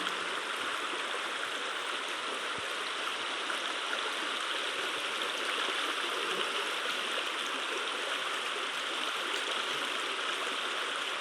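A fast, full stream pours over rocks, a steady, even rush of water that stays close and continuous with no voices.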